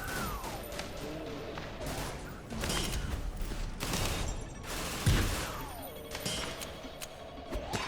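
Rapid gunfire and impacts from the slow-motion shooter Severed Steel as henchmen take repeated headshots, with dense, continuous bursts of shots, crashes and mechanical clatter over a droning synth tone, loud and close throughout.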